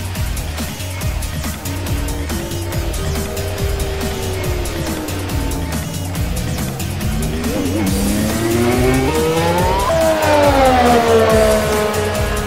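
A race car in the Assetto Corsa video game runs off-track at Suzuka. The engine roars loud and steady, its pitch sweeping up and down, while the tires squeal, and a commentator talks over it.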